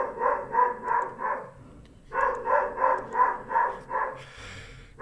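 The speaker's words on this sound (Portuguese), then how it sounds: "por isso que está essa barulheira de cachorro" A dog barks at a man weeding the yard, two rhythmic runs of four to six sharp barks with a short pause between, fairly close and without talk.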